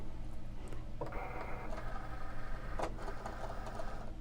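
A Cricut cutting machine draws in its cutting mat with a steady motorized whir and a few mechanical clicks over a constant low hum.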